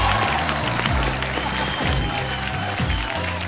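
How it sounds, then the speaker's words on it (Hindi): A studio audience on a Bhojpuri singing reality show gives a strong round of applause to welcome judge Kalpana Patowary, a steady wash of clapping with low music beneath. "जोरदार ताली से स्वागत करे के हमनी का आदरणीय जज"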